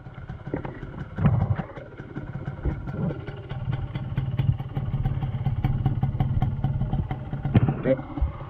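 A motorbike ridden in rain, engine running steadily throughout with some clattering knocks, close and fairly loud, with a voice speaking briefly over it.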